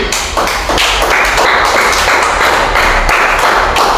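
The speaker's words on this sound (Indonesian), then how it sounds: "Untuk kelompok 1 coba tepuk tangan." A group of children clap their hands together in a classroom, a loud, close, rhythmic run of sharp claps that continues steadily for about four seconds with no talking.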